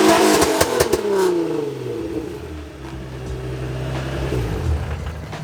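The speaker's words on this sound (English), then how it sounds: "And one red line for the crowd." A battered drift car, patched back together in a parking lot at a drift event, revs loudly toward redline in sharp bursts, then falls back to a rough, lumpy idle.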